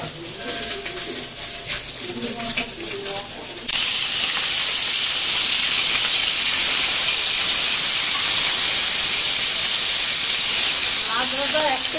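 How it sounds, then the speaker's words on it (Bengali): Coral fish fry in hot oil in a pan, giving a loud, steady sizzle and hiss that begins suddenly partway through after quieter kitchen sounds, with faint bird calls near the end. "মাছ ভাজা একটু হয়ে গেছে"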